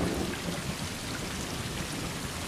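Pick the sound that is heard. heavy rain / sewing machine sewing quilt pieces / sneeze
heavy rain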